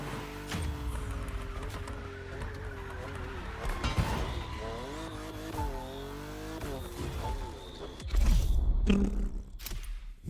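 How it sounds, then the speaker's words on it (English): A Lamborghini Aventador in The Crew Motorfest revs and skids, engine pitch sweeping up and down with tire squeal, ending in a louder burst of engine noise; a voice speaks over part of it. "have you ever seen a Lamborghini skid? Well, you're about to."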